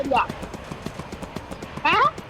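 Horse hooves clip-clop at a steady trot in a video game with a zipline, a fast even rhythm close by, with a short neigh-like cry at the start and another near the end, and no talk over it.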